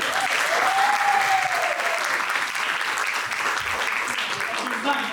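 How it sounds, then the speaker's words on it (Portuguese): Studio audience applause on a Brazilian night talk show, a steady, loud wash of clapping that fills the whole stretch with a faint whistle rising over it early on. "Salva de palmas, galera, aí."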